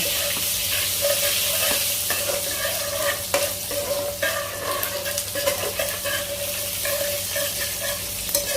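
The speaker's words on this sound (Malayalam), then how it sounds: "ഇതും ഒന്ന് ചെറുതായിട്ട് എണ്ണയ്ക്കകത്ത് മൂക്കട്ടെ" Ginger and garlic fry in hot oil, a continuous close sizzle broken by scraping stirring strokes, with no speech throughout.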